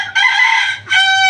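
A Malaysian Serama chicken, a tiny bantam breed, crows close and loud in a brief, strained two-part call with a short break between the bursts.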